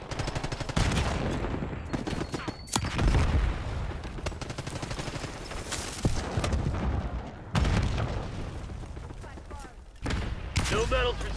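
Gunfire and a frag grenade blast during a Call of Duty Black Ops 6 Domination match on Nuketown, with sharp shots and bursts, heavy booms at intervals, and in-game voices talking throughout.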